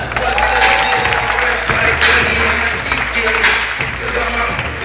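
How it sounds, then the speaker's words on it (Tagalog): Applause from an audience at a Christmas gathering, steady dense clapping filling the whole stretch with crowd noise and some voices mixed in. "Palakpak naman dyan!"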